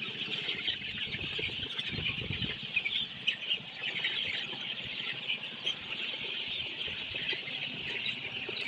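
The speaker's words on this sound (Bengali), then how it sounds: "ওদের খাবার পাত্রে খাবার দেওয়ার সঙ্গে সঙ্গে সবগুলো মুরগি খাওয়া শুরু করে দিচ্ছে" Sonali chickens on a poultry farm crowd around feed pots, giving a faint, steady chorus of soft chirps and bird calls with no talk.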